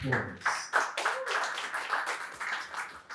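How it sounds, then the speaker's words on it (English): An audience at the Humour Awards claps steadily and fairly close, a dense patter of hands that carries on for a few seconds without a clear break. "Please put your hands together for them one more time."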